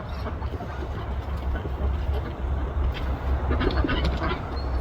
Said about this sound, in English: it looks like the ducks are heading in